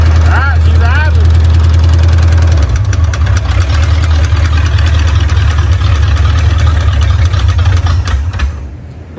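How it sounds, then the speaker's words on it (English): A 1968 Ford Mustang engine idles with a loud, heavy rumble and rapid ticking clatter, close by. A voice is heard briefly at the start, and the idle settles into a steady roughness before fading slightly at the end. "All right, she's idling."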